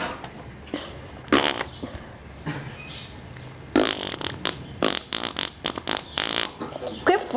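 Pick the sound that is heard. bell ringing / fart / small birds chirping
fart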